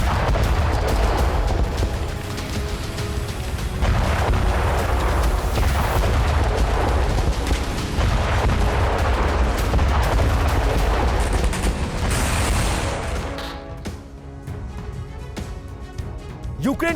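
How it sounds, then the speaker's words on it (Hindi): Blasts from a drone strike on Russian military boats, a loud, dense barrage of booms and gunfire-like cracks running almost continuously before easing off near the end, with voices mixed in. "इन बोट्स में धमाका हुआ"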